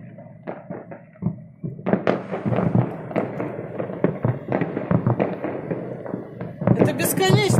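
New Year fireworks exploding over the city of Anapa, a dense, continuous crackle of bangs and pops that overlap from near and far, loud throughout, with excited voices shouting over them.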